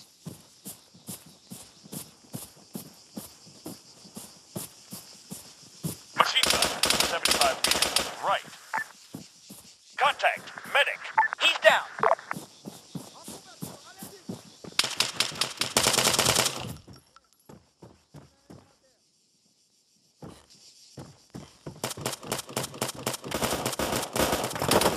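Automatic machine gun fire in the military shooter Arma III, long rattling bursts alternating with sharper volleys and quieter stretches of distant shots, with a voice calling out between them.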